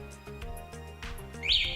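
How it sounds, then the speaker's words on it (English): ONYX RCR electric motorbike lock giving a short electronic chirp near the end, with brief tonal beeps and clicks before it, close and moderately loud. "you're going to hold down this lock button until you hear the first chirp"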